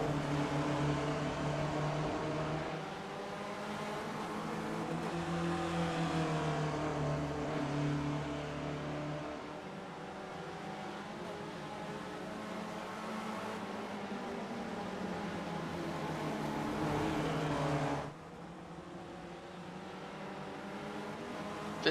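Spec Racer Ford race cars run at Road America in the iRacing game, with a sustained engine whine that rises and falls in pitch as they accelerate and shift, and a sudden drop in level near the end.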